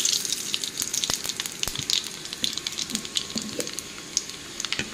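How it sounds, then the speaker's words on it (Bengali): Panch phoron spices hitting hot oil where dried red chilli is already frying, a close, dense crackle of sharp pops and spits over a steady hiss. "দিয়ে দিচ্ছি পাঁচফোড়ন।"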